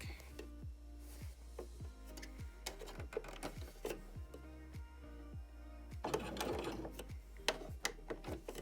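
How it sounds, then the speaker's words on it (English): Sewing machine top stitching a fabric dog bandana, running in short bursts of rapid rhythmic needle thumps with pauses between, close and fairly quiet, no voices. "Top stitching is done"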